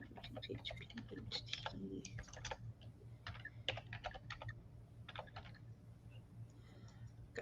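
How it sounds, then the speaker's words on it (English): Fast, irregular clicking from a computer keyboard being typed on during a Monday live stream, close and moderately loud over a steady low hum. "I will type it in chat"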